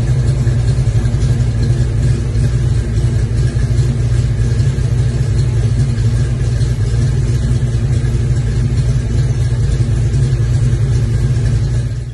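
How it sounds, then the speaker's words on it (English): A Ford Mustang GT engine, a 347 stroker, idles steadily and loudly for the whole stretch, a deep even rumble with no talking. "I'll throw up a little clip of the car idling"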